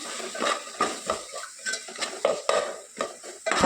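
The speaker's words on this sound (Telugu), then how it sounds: "ఒకసారి అంతా కూడా కలుపుకుందాము" A spoon scrapes and clanks against a metal pot in repeated stirring strokes while garam masala is mixed in, close and fairly loud, with a faint sizzle underneath.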